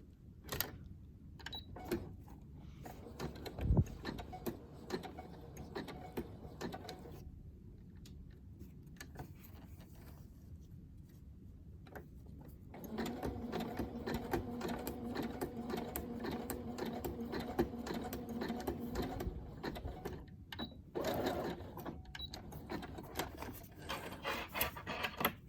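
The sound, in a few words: sewing machine stitching a fabric seam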